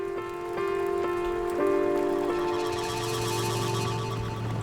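Rain pattering on the surface of the Pangalanes canal in Madagascar, a steady hiss of drops over a constant drone with shifting tonal hum, no voices.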